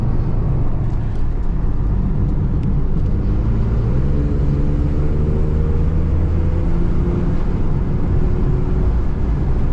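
Porsche GT4RS sports car on a race track, a steady loud engine drone with shifting pitch as it accelerates through a lap, continuous and close throughout.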